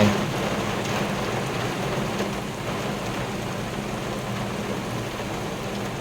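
Heavy rain pours down steadily in a loud, dense, unbroken hiss throughout, falling where a water pump is running through the storm; no voices are heard.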